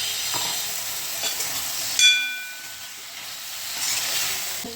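Potatoes and drumsticks stirred into a spiced curry sizzle steadily in the pan, a soft continuous frying hiss with a brief scrape of the spoon partway through, close and fairly quiet.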